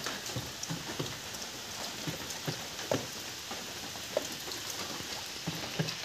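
Heavy rain pours down in a steady, hissing wash, with occasional louder drips and splashes hitting a nearby surface.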